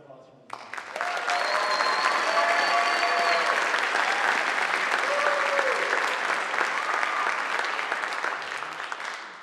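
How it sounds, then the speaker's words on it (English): Sustained audience applause at a Christmas concert, a performer being honored, steady dense clapping from a large crowd lasting several seconds, with faint voices and whistles mixed in. "We have one more round of applause for her."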